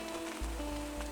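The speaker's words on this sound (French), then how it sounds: "Et puis moi, je vais écouter tranquillement la pluie tomber." Steady rain falls at night, a soft, even patter on surfaces heard alone and fairly quiet, with a low hum underneath.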